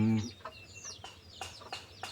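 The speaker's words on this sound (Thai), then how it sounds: "แล้วตัวที่มาทับก็คือตัวผู้นั่นเป็นไก่ป่า น้ำหนึ่ง" Junglefowl chickens kept free-range around a rural home cluck in a few short, soft calls spread through the clip, with faint bird chatter in the background.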